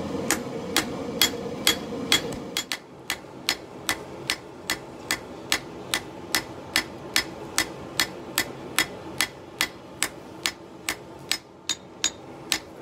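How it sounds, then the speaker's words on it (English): Steady, evenly spaced rounding hammer blows ring out on steel while forging a kris dagger edge bevel from an old file, sharp metallic strikes repeating in a regular rhythm with a faint hum underneath. "So now I'm just going up and down with the rounding hammer, laying in my edge bevel."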